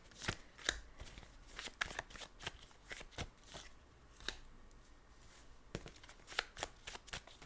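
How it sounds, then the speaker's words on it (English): Tarot cards being shuffled and laid out, a quiet close run of crisp riffling flicks and soft slaps in irregular bursts, with no talking. "I'm going to lay out the cards and I'll be there with you."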